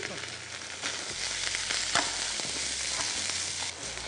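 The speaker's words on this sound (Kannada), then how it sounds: "ಸಾಕು, ಈರುಳ್ಳಿ ಫ್ರೈ ಆಗಿದ್ದು" Onions frying in a pan with ginger-garlic paste, a steady close sizzle with occasional stirring scrapes running throughout, no voices.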